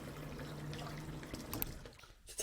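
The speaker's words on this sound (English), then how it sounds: "just fill the sink up with some water" Tap water runs into a sink for washing leather boots, a steady pouring trickle heard alone at moderate level, easing off near the end.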